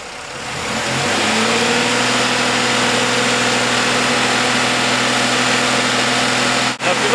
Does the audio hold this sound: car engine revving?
yes